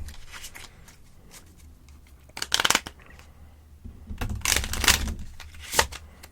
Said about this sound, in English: So give it a shuffle.